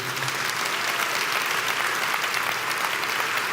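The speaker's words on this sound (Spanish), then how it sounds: "Vuélvale a dar un aplauso fuerte al Rey" A church congregation gives a loud round of applause, a dense, steady wall of many hands clapping close by, continuing evenly without a break.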